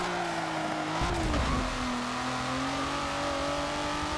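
A Bugatti Chiron's engine in the Forza racing game revs steadily, with a rising tonal drone and a brief surge in the middle before settling into a sustained, loud whine.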